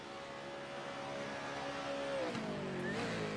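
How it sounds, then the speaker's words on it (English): Racing car engine in a racing video game, revving in a steady, continuous whine with pitch shifts and a brief drop near the end, loud and unbroken throughout. "car sound is low"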